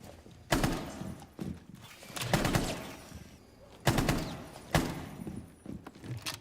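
Gunfire in the tactical shooter Rainbow Six Siege during an esports playoff match: several sharp bursts and single shots ring out at irregular intervals, with quieter movement and room noise between them.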